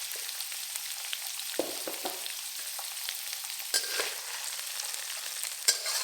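Firm tofu, shiitake mushrooms and carrots stir-fry in a hot pan, giving a steady high sizzle with a few sharper clatters as the spatula tosses the pieces, close and continuous with no talk.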